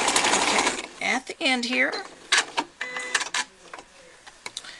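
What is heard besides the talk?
sewing machine stitching a towel hood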